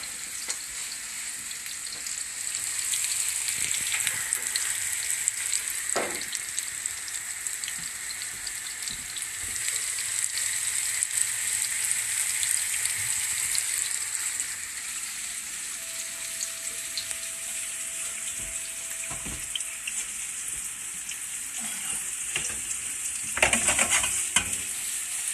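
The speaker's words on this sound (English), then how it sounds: "Let's get one more schnitzel in there. I got to flip that." Schnitzel fries in a pan with a loud, continuous crackling sizzle, joined near the end by bursts of stirring and scraping and a brief soft tone in the middle.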